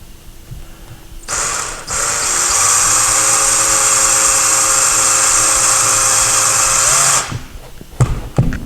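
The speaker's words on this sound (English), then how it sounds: "we're going to drill a very small hole to make sure that we hit a beam right here" A high-pitched drill whines steadily for several seconds as a small bit bores into a wall, hitting a beam, starting and stopping abruptly, close and loud.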